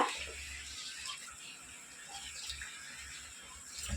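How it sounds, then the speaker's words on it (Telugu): Water poured into a cooking pot of rice-flour dough sweetened with jaggery, a soft continuous trickling splash, fairly faint and steady, no talking. "ఇంకొంచెం వాటర్ పోసుకుందాం"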